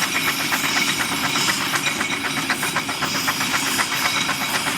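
A 1907 Marshall Colonial steam traction engine, built for export, runs at a show with a steady loud steam hiss and a faint rhythmic chuffing pulse throughout, with no voices.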